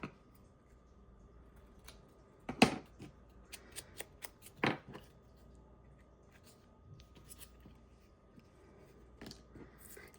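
Scissors snip through paper in a few short, sharp cuts, close and fairly quiet against a still room, with brief rustles of the paper between cuts.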